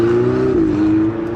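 A Ferrari engine hums loudly and steadily at close range, its pitch sagging slightly midway through before holding level again, with no voices heard.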